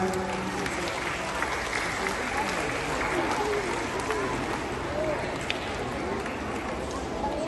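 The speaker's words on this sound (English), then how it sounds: "Let's have a big clap," A school assembly audience claps for a student named Mohammed, a sustained crowd patter of many hands with voices talking over it throughout.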